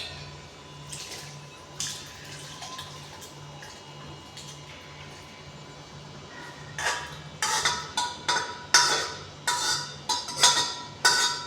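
Cooked beetroot and potato curry emptied from a pressure cooker into a bowl: quiet shuffling, then a run of sharp metallic clinks and scrapes that grow louder and more frequent toward the end.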